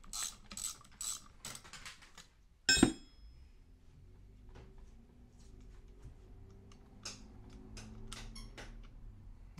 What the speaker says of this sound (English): we're going to remove that nut, which I think is a 15 millimeter